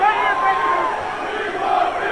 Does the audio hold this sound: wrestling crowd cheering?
yes